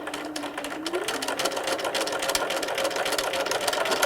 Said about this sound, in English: So we're going to sew across the front of the mask.